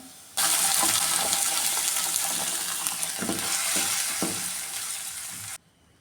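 Ground coconut for dosa chutney goes into hot oil with mustard seeds and curry leaves, setting off a sudden loud hiss of frying with a few stirring knocks, then stopping abruptly.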